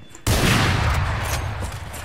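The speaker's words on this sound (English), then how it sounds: "Placing swarm grenade." Omen's swarm grenade going off in the shooter VALORANT, starting abruptly after a quiet moment and continuing as a loud, sustained crackling burst that fades slightly toward the end.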